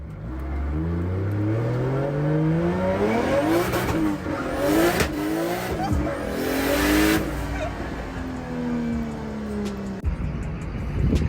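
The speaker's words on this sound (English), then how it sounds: "He's gonna have a reaction video of me and him driving in his 1J E36." BMW E36 fitted with a 1JZ engine driving hard, its engine revving up and down in rising, falling sweeps with tire noise, loud and close throughout, no talk over it.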